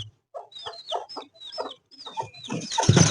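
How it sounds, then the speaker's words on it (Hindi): Repeated hen clucks in short bursts, close by, with a rising burst of louder squawking and flapping near the end. "ओ ये हमारी मुर्गी खोल रहे हैं, मुर्गी हमारी।"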